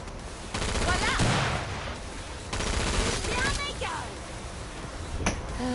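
Gunfire from guns in a PS4 game, loud sustained bursts of rapid automatic shots in two long stretches, with a voice talking over parts of it.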